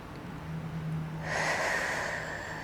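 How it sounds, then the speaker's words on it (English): A deep breath drawn in during a yoga session, a single long, steady inhalation that swells into a breathy rush partway through and holds, close and fairly quiet, with no talking. "So we take a few nice deep breaths in"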